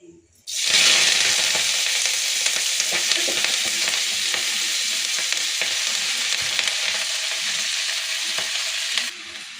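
Cumin, fenugreek seeds and kalimaku leaves dropped into a hot pan burst into a loud, close sizzle that holds steady with small pops and crackles for about nine seconds, then cuts off.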